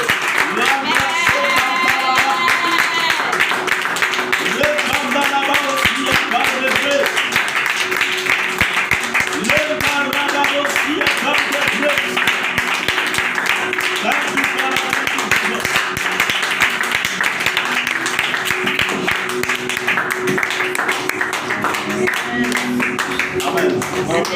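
A church congregation claps loudly and continuously in acclaim of Jesus, steady rhythmic applause mixed with voices and singing throughout the whole stretch.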